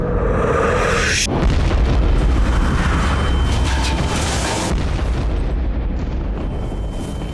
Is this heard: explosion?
yes